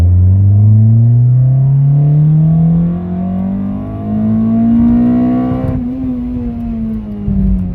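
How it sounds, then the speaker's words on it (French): Toyota 2ZZ-GE engine swapped into an AE92 revs up through its intake, a loud close-up roar climbing steadily in pitch, easing off briefly, then rising again before a sharp lift-off. "Le 2ZZ, qui déjà, avec le collecteur d'admission d'origine, fait un bruit absolument magnifique"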